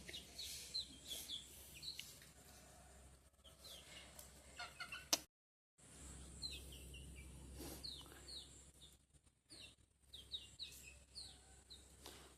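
Backyard chickens and young roosters cluck and chirp close by in the morning, a busy run of soft clucks and short calls with a brief gap midway, faint and low in level.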